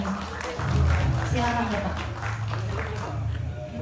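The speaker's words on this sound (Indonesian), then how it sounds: "Teman-teman, kita beri tepuk tangan yang meriah untuk Bapak Stepanus T. Siagian." A youth forum audience applauds a speaker being welcomed to the stage, the clapping moderate and spread out beneath a voice speaking over it.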